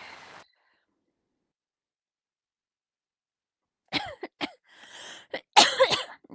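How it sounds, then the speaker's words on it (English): Several sharp coughs and throat-clearing bursts from a person with an upper respiratory infection, close and fairly loud, arriving in an irregular cluster after a long stretch of silence. "Please forgive me as well as I am in a coughing stage, unfortunately."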